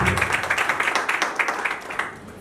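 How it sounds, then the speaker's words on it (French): Guests at a civil wedding ceremony in a town hall in Nzeng applaud in a dense, steady round of clapping that carries throughout, with rhythmic peaks within it, before fading slightly at the end. "des applaudissements pour notre auteur"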